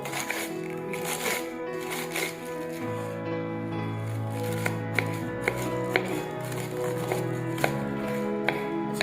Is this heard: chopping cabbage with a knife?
yes